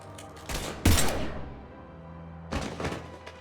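Gunfire in the Mass Effect 3 game: a sharp, loud shot with a thudding impact, then a burst of several rapid shots a moment later, set against low ambient hum.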